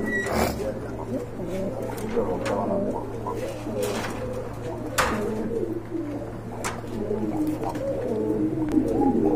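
A pair of big-sized pigeons, a female and a male, coo in low rolling phrases over a steady hum, with a few sharp knocks and rustles nearby.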